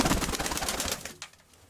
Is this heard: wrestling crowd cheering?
no